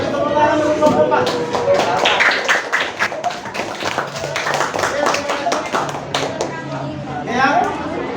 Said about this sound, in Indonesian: kita tepuk tangan untuk kelompok 4